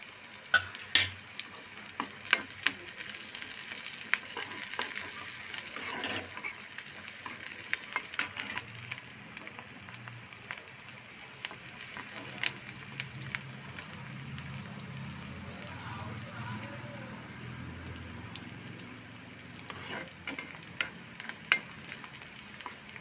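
Green chillies frying in a pan while being stirred for spicy Maggi noodles, a soft steady sizzle broken by repeated scraping and clinks of the spoon, fairly quiet and close.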